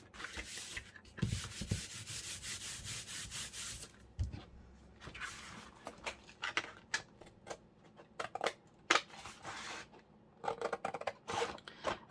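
Paper edges are inked with an ink pad for a folio lapbook craft project: quiet, close scratchy rubbing and dabbing strokes in uneven bursts, with no voices.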